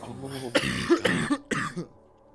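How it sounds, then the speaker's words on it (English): A small, elderly gnomish woman coughs in several rough, hacking bursts, close and fairly loud, with short gaps between them and no talking over the sound. "that cough doesn't sound good"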